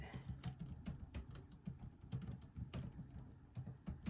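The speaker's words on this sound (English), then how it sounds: "I wish I could type faster" Rapid typing on a computer keyboard, steady quick clicks close up and fairly quiet, with no talking over it.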